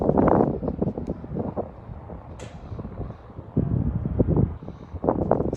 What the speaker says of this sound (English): It's really windy down here